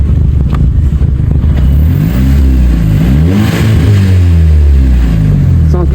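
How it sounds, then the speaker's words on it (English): An MK5 VW Golf GTI with a misfire on cylinders 1, 2 and 3 revs up loudly from idle, its engine note climbing and then falling back in a smooth sweep, close and alone. "I'll give it a rev."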